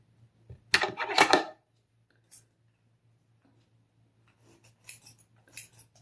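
Scissors snip through hair in a quick cluster of crisp, close cuts, followed by a few faint, scattered snips against a quiet background with a low steady hum.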